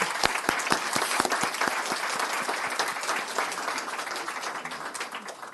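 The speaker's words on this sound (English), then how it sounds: "Can we have a round of applause?" An audience at a Board of Supervisors meeting breaks into applause, with some distinct close claps at first, then a steady patter of many hands that gradually thins and fades.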